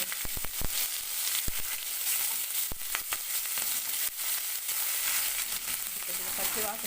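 Green chilli, ginger and garlic paste sizzles and crackles as it fries for egg biryani, a continuous hiss broken by sharp pops throughout.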